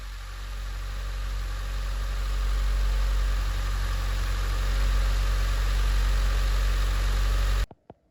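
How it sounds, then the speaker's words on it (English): A Proton Satria GTI engine idles to warm up, a steady low rumbling drone held close and constant for several seconds before cutting off abruptly near the end, with no talking. "that's our engine nice and warm now. It's been running for about 20 minutes"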